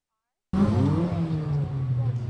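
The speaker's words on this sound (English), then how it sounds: "The sound of engines from a long line of souped-up cars filled the air" After a brief silence, a souped-up car engine suddenly roars to life nearby, one of a long line of cars, and holds a loud, droning rev with rising and falling pitch.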